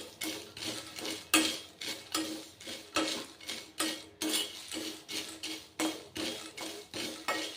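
Flattened rice (avul) roasts in a metal pan while a spoon stirs it, giving a steady series of close, sharp scrapes and clinks against the pan in a quick, even rhythm.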